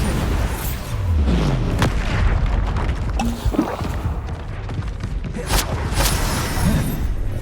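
Repeated booming blasts from the Bombarda spell in Hogwarts Legacy, mixed with other spell effects and combat noise throughout, several heavy thuds and bright bursts spread across a busy, loud fight.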